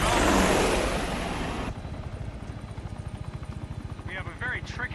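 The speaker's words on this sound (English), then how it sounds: "Those bloody helicopters." Helicopters pass overhead in a city police hostage scene, a loud broadband roar at first that drops to a steady rhythmic rotor chop, with brief tonal calls near the end.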